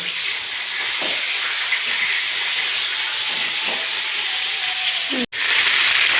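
Pangas fish frying in hot oil, a loud and even broadband hiss that holds steady with a few faint knocks. It cuts out for an instant near the end, then resumes.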